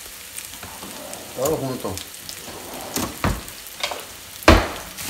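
Chiles de árbol and garlic cloves frying together in oil for a salsa while being stirred: a steady sizzle with louder crackling bursts, heard up close under someone speaking Spanish.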